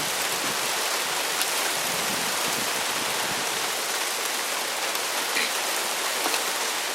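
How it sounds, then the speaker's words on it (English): Steady outdoor rain falls in a storm, a dense continuous hiss of drops on surfaces with a few faint crackles, no voices, filling the whole stretch at an even level. "It's really starting to rain and storm out here."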